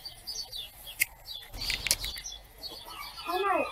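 Tiny birds at a nature park beside a koi pond, with a burst of fluttering wings in the middle and scattered high chirps and tweets before and after, fairly close and moderately loud.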